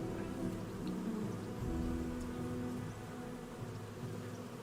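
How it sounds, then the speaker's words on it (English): Insect buzzing from bees in the medieval role-playing game Kingdom Come Deliverance, a steady droning hum that continues throughout, fairly loud and alone with no speech. "Bees! Can I gather honey?"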